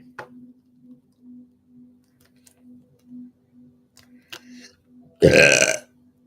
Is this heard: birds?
no